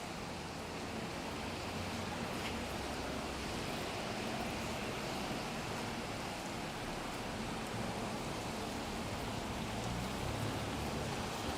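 Rain pours steadily onto a downtown Toronto street, a dense, unbroken hiss that holds at the same level from start to finish with no voices.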